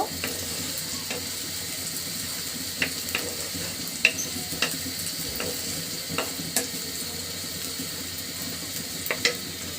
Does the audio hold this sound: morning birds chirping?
no